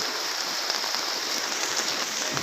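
Continuous rain falls steadily in Tiruchendur, a dense, even hiss of drops on surfaces that stays loud and unbroken throughout, with no voices.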